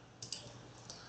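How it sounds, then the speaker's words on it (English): A few faint computer mouse clicks close by, about three quick taps spaced unevenly against a quiet room hum. "Right click, refresh it once."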